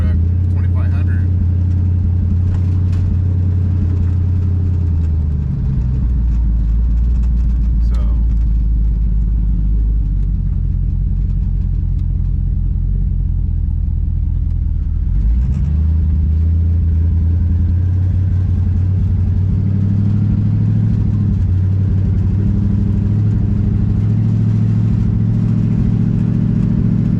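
A light pickup truck fitted with a heavy-duty 2500 engine and transmission drives along with a loud, steady low drone, its revs shifting as it accelerates, while someone talks over it.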